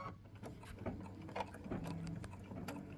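Embroidery machine stitching the loop of a freestanding lace Christmas ornament, a quick steady rattling patter of needle strokes, close and fairly faint, running without a break.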